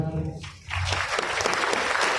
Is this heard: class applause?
yes